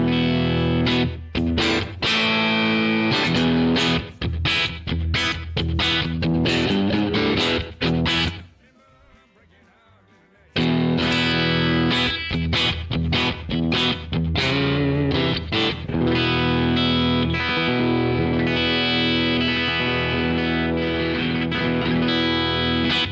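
A Telecaster guitar plays through the Kuassa Amplifikation amp sim plugin with bright, driven chords and picked notes. The phrases continue with no talking, broken by a short, almost silent gap.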